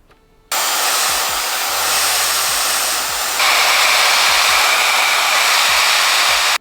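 A Dyson hair dryer and another hair dryer run in turn, a loud close steady roar that starts abruptly and shifts to a slightly different pitch and louder level partway through, broken only by faint clicks and no talking.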